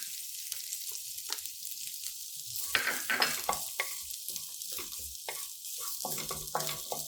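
A quarter cup of grated coconut sautés in a pan, a soft frying crackle broken by repeated bursts of stirring and scraping against the metal, close and moderately loud.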